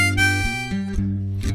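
Blues harmonica response phrase alternating between 5 draw and 6 blow, several reedy held notes changing pitch in a rocking pattern over low backing chords, close and steady with no voice.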